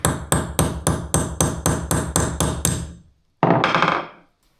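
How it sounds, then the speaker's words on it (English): Hammer blows punching a pin out of a chain link held in a vise, about eleven sharp, evenly spaced metallic strikes in fast rhythm, a short pause, then one last ringing hit that fades out. "punch out the pin the"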